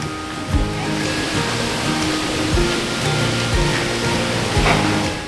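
Rain falls steadily on the deck of a cruise ship sailing the Mexican Riviera, making a dense, loud, continuous hiss with faint low thumps underneath and no voices.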